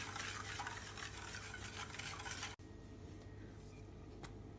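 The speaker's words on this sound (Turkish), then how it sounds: "Tüm malzemelerimi karıştırarak göz göz olana kadar pişiriyorum." Starch pudding mixture with cornstarch and poppy seeds being stirred in a pot as it cooks, a steady close scraping and swishing that runs continuously, then drops away to a quieter simmer after a brief cut.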